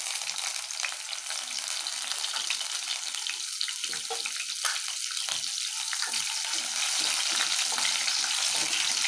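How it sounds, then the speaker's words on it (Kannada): Garlic cloves and cut green chilies frying in hot oil, a dense, loud and continuous close-up sizzle that holds steady throughout, with faint stirring underneath and no talk. "ಸ್ವಲ್ಪ ಚೆನ್ನಾಗಿ ಫ್ರೈ ಆಗಬೇಕು ಮೆಣಸಿನ್ಕಾಯಿ ಮತ್ತು ಬೆಳ್ಳುಳ್ಳಿ."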